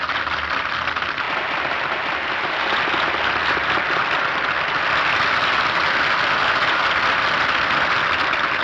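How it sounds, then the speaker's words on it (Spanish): An opera-house audience in Citizen Kane applauds after the performance, a steady wash of many hands clapping that stays even and slightly builds, with no standout cheers or voices. "Termina la ópera y el público apenas si aplaude"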